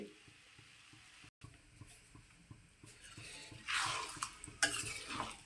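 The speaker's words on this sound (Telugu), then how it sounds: "ఇది బాగా కలుపుకోవాలి" A spoon stirring tamarind juice into a pot of taro and egg curry, with soft repeated scraping and a faint simmering sizzle that grow busier and louder toward the end.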